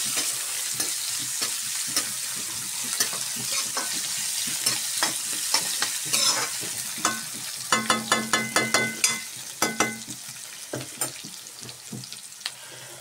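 Onion fries in a pan with a steady sizzle while being stirred, spoon scrapes and clinks coming in repeated bursts, closer and sharper midway, with no voices.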